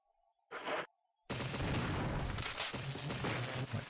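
A shotgun fires in the Resident Evil video game: one short, sharp blast, a brief gap, then a loud, sustained booming burst with heavy low rumble, close and without talk.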